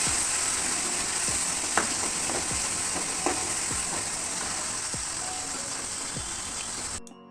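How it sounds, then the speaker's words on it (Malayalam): Chopped onions and two green chillies sizzle in hot oil for a Kerala-style curry: a steady, close frying hiss with occasional soft stirring taps, cutting off abruptly at the end. "ഉള്ളി കൊടുത്തിട്ടുണ്ട് കൂടെ തന്നെ രണ്ട് പച്ചമുളക് കൊടുത്തിട്ടുണ്ട് ഒന്ന് മൂത്ത് വരട്ടെ"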